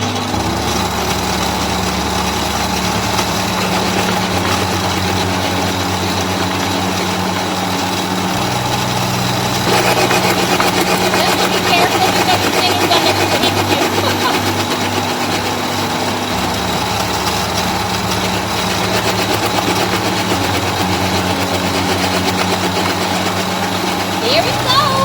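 Engine-driven wood chipper runs loudly and steadily as branches are fed through, with the motor's roar shifting as the wood is chipped. It is close, continuous and dense, with a voice occasionally heard under the noise.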